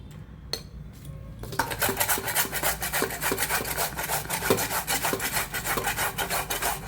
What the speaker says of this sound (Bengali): তাহলে আমি সম্পূর্ণ কুমড়োটা গ্রেট করে নিই।